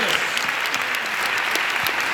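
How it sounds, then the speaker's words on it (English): A crowd at the Cannes Lions awards applauds bronze and silver winners with steady, dense clapping that stays loud and even throughout, and voices can be heard faintly underneath. "Round of applause to them."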